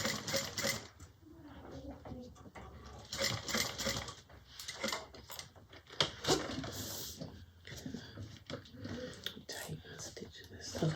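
A sewing machine runs in short, uneven bursts of stitching along a bag overlay, fairly quiet and close, with soft talk and handling noises in between.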